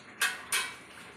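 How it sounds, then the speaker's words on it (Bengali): Spice masala stirred in a cooking pan for a chicken dish, two quick scraping strokes of a spoon or spatula against the metal, close and clear with no voices. "এটা কিন্তু ভালো করে আমি নাড়াচাড়া করে নেব।"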